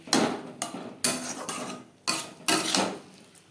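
Pieces of boiled potato drop into a pan of Bengali-style tangra fish curry with masala, making about six close, distinct clunks and clatters against the pan at uneven intervals, with no talking.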